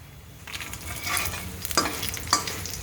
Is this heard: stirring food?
yes